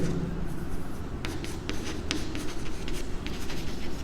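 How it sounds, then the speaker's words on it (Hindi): Marker or chalk writing on a board while working through a commerce maths problem on sales commission, with quick scratchy strokes and taps in close, uneven bursts and no talking. "मैं लिखता हूं"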